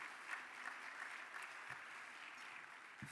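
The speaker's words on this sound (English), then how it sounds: "Give them all a super huge round of applause." Audience at a mayors' plenary luncheon gives sustained applause, an even, moderately distant patter of many hands clapping throughout.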